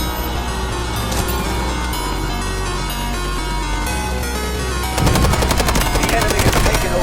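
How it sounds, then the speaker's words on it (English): An artillery barrage rumbles in the Delta Force Mobile shooter game. The battle noise is a dense, loud roar that turns into a rapid, heavy volley of blasts and gunfire in the last couple of seconds. "Artillery barrage incoming."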